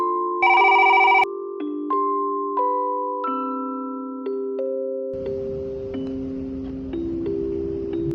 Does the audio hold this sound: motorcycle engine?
no